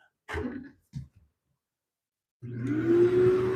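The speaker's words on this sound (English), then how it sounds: "I'm going to vacuum out the bowl just a little bit" A vacuum cleaner starts up partway through to suck sawdust out of a large turned oak bowl, its steady whine rising in pitch, after brief close sounds like a throat clearing.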